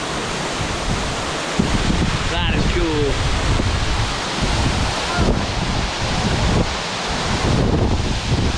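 A hidden waterfall at the end of a hike gives a steady broadband roar that fills the whole scene. It sounds close and constant, with wind gusts mixed in and a brief spoken remark over it.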